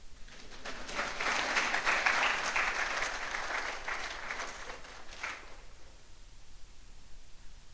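An audience applauds at an inaugural university lecture, a dense wash of clapping that swells, holds for several seconds, then fades away into quiet room noise.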